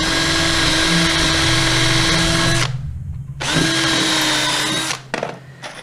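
A DeWalt DCD709 hammer drill drives a screw into a wooden board, a loud whirring run that stops briefly and restarts, then a short final burst.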